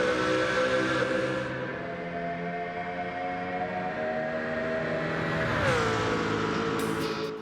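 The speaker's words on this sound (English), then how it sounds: "The Mercedes GT1 late 90s road car. 5-litre naturally aspirated V8 600 horsepower monster" Mercedes GT1 late-1990s road car in Gran Turismo 7, a 5-litre naturally aspirated V8 of 600 horsepower, holding a loud steady drone before its pitch dips briefly and then climbs again as the engine revs.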